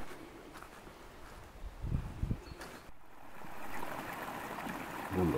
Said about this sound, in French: Voilà le petit ruisseau qui recouvre et qui coule dans le chemin de randonnée